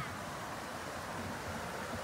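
A mountain stream flows past a campsite near Hanoi, a soft continuous rush of water that stays even and fairly faint throughout, with no voices.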